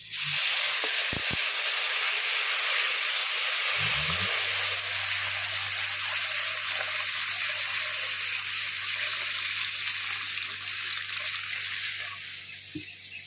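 Water hisses and sizzles as it is poured into a hot pan of mangoes and small fish cooking for a sour curry, a steady loud steaming rush that runs almost unbroken, with a low hum underneath.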